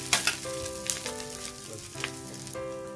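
Vegetables stir-fried on high flame for restaurant-style chicken noodles, a steady bright sizzle under a few clanks and scrapes of the utensil against the pan, with a faint hum underneath and no talking.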